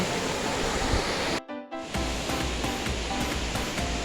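Sam Sai waterfall in a forest conservation area under an overcast sky, giving a steady, loud wash of falling water that drops out briefly near the start before returning just as strongly.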